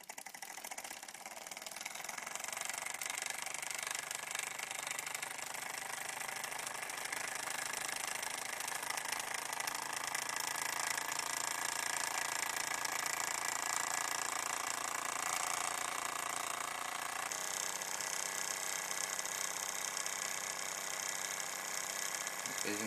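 A small antique Ernst Plank toy steam engine from the 1900s runs steadily, giving a continuous close mechanical chugging and rattling hum with a bright hiss throughout, no voices.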